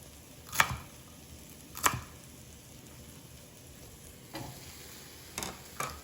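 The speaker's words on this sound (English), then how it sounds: "I'm just going to be adding my asparagus first." Asparagus spears dropped into a hot pan for Panang curry, giving a steady low sizzle with several sharp clatters and stirring knocks spaced through, no voices.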